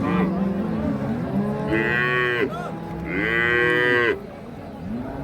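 A Holstein Friesian dairy cow moos at a busy cattle market, with two long, loud, close lowing calls separated by a short pause against a bed of crowd noise.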